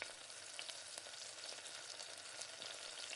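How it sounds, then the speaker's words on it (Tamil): Onions sauté in oil with mustard seeds and urad dal, giving a soft, even, continuous sizzle with faint stirring, quiet and steady throughout, no voices. "இப்போ வெங்காயத்தை இது கூட சேர்த்து நல்லா வதக்கிக்கோங்க."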